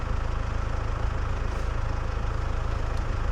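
A steady tractor engine drones throughout, a constant low rumble with no pauses, loud and continuous like heavy machinery idling nearby.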